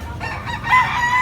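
Gamecock rooster crowing close and loud, a single drawn-out call over low background noise.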